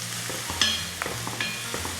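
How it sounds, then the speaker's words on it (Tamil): Onions sautéing in a pan for vendhaya keerai puli kozhambu give a steady sizzle, broken by light scraping stirs and a few metallic clinks. No voices are heard. "இப்போ வெங்காயம் நல்லா வதங்கட்டும்"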